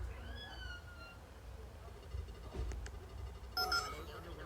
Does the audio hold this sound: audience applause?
no